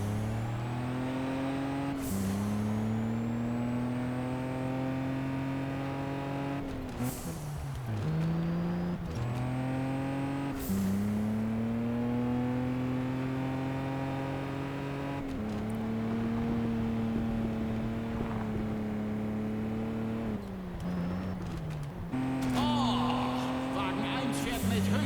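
Race car engine in the Juiced 2 racing game, holding a steady high whine at top speed with brief gear-shift dips and shifts in pitch, while someone talks over it throughout.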